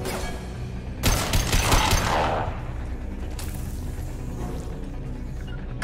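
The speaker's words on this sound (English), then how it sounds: "Under fire." Gunfire in Mass Effect 2 opens with a sharp, loud burst of rapid shots up close, then thins into scattered reports and mechanical clatter, with another sharp crack partway through.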